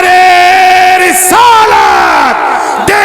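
A large crowd at a religious gathering shouts the takbir slogan in unison, loud and close, with sustained, sliding chant tones and a short burst of yelling.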